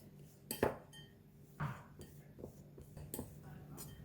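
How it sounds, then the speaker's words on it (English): Forks clink and scrape against a dish as salted egg yolks are smashed into pieces, giving a few faint scattered metallic taps and scrapes with no talking. "We're going to use the forks to smash them into pieces."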